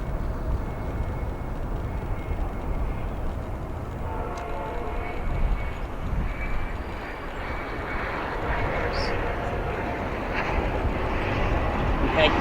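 A Japan Airlines Boeing 777-300ER jet at O'Hare International Airport, a steady low engine roar with a high turbine whine that swells toward the end, heard at a distance with voices talking over it.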